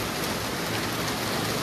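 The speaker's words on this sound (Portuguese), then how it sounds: "Terça-feira e com muita chuva." Heavy rain falling steadily in Portugal, a dense, loud and unbroken hiss of downpour with no pauses and no voices.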